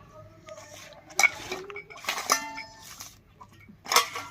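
An iron griddle (tava) set on a stove for cooking rotis: scattered metallic clanks and clinks of cookware, three sharper knocks spaced over a few seconds, quiet and close, with no voices.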